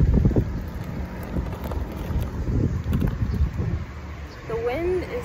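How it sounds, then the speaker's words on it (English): Wind blows outdoors on a hot New York beach day, buffeting the microphone in uneven gusts of low rumble, with a brief voice near the end. "The wind is so good"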